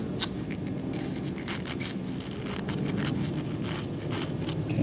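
A hand tool scratching and scraping into soft cast pewter, giving a continuous gritty rasping that is moderately quiet and close, with no talking.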